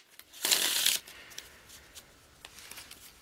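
Tarot cards shuffled in one brisk riffling burst of about half a second, close and crisp, followed by a few faint taps and card handling sounds in a quiet room.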